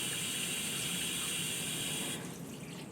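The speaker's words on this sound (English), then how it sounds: "when we turn the control to 9 o'clock, the hand shower will run by itself" Water hisses and splashes steadily from a hand shower fed by a shower valve, running alone at moderate volume before dropping to a softer flow near the end.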